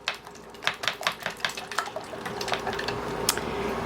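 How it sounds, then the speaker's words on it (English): A whisk beating a meatloaf mixture with Italian herb seasoning in a bowl: quick, rhythmic close clinks about five per second, softening into a busier, wetter stir with a final sharp tap. "You can see I'm going to just whisk this all up."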